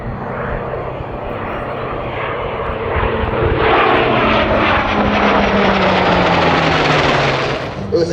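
An F4U Corsair and an F-18 Super Hornet flying together in formation, a loud, close, sustained engine roar with propeller drone that swells midway and holds steady, with a voice talking underneath.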